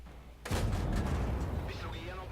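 A tank cannon fires in the World of Tanks video game, one sudden heavy boom followed by a rumbling decay, with a voice talking over it.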